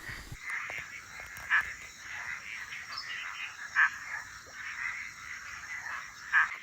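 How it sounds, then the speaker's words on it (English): Frogs call faintly at night at a campsite by Kalgan Pool in the Pilbara, Australia, with a few louder croaks rising at intervals over a soft background of insects. "Listen to the frogs."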